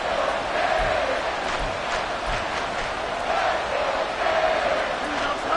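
A stadium crowd roars continuously through a late-game NFL moment between the Chicago Bears and their opponent, a loud dense wall of cheering and shouting with a commentator's voice woven through it.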